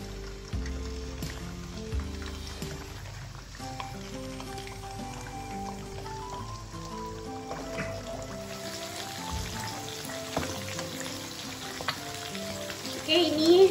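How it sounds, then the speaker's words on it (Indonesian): Tongkol tuna frying in hot oil over medium-low heat, a steady crackling sizzle with scattered pops, constant and fairly close, with no talking. "Kita goreng pakai api yang sedang, cenderung kecil ya."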